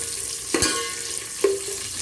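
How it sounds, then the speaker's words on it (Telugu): Onions fry in oil for a biryani, a low steady sizzle close by with two sharper stirring knocks against the pan, brief and without any voices. "ఇప్పుడు ఆనియన్స్ వేసుకోవాలి. ఓకే, ఇది ఫ్రై అయినాక పచ్చిమిర్చి వేసుకుందాం."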